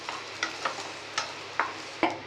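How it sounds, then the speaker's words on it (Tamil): Grated coconut being lightly roasted and stirred in a pan for coriander seed chutney, a spoon scraping in short, fairly regular strokes over a quiet background with no voice. "அதுக்காகத்தான் இப்படி தேங்காவை லேசாக வறுத்து போடுறது வதக்கி"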